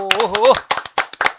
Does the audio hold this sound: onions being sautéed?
no